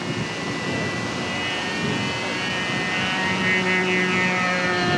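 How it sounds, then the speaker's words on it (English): Steady droning hum of a model airplane flying on one engine, the other shut down, running continuously, with a slight shift in pitch partway through as it flies on. "tell from the difference in the sound there that the one engine is shut down"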